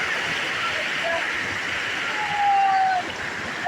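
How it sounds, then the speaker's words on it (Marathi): Water from a hidden monsoon waterfall near Kharghar rushing in a continuous broadband roar, steady and close, with no clear talk over it. "नुसता पाण्याचा आवाज नाही का"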